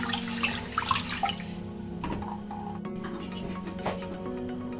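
Rice being washed by hand in a bowl of water, a steady close sloshing and swirling of water with occasional splashes and drips throughout.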